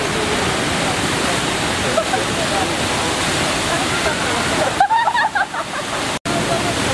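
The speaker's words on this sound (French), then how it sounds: "vous pouvez voir les chutes derrière moi" Waterfall at Seogwipo on Jeju Island, a loud, steady broadband rush of falling water close by that fills the whole stretch, with a voice briefly heard over it.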